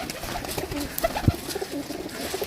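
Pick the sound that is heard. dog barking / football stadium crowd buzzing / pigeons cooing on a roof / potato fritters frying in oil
pigeons cooing on a roof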